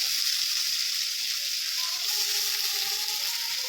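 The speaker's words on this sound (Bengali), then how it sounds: "এখানে কড়াইটা বসিয়ে দিয়েছি, ভাইয়ের জন্য একটু আলু ভাজা করবো" Potatoes frying in a kadai, a dense continuous hiss of hot oil heard up close and steady throughout.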